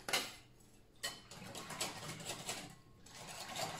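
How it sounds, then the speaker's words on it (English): Gelatin being stirred in a bowl for a three-ingredient strawberry dessert, with repeated scraping and clinking strokes, close and fairly steady with a couple of sharper knocks. "you're gonna mix that up."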